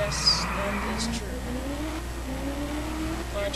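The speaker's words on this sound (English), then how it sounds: "I'm just driving through the city, wreaking havoc, pretty much." Car driving through city streets in Just Cause 2, a steady engine drone with shifting pitch as it accelerates and turns, continuous and fairly loud throughout.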